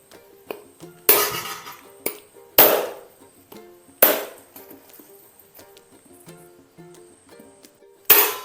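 Hard, sharp whacks cracking open heated, cooled coconut shells, about five loud strikes at uneven intervals with lighter taps and knocks between them.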